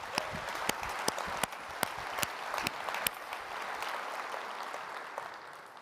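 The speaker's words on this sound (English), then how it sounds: "Let's give him a big round of applause." A conference audience applauds at a closing keynote, a fairly soft, even round of clapping with scattered louder individual claps standing out. It tapers off slightly toward the end.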